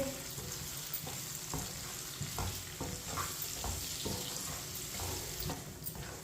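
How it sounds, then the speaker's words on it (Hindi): Whole green chillies fry in a pan with a soft, low sizzle broken by repeated stirring knocks and scrapes at a fairly even rhythm, quiet and without speech. "सब्ज मिर्च को 1 मिनट के लिए फ्राई कर लेंगे"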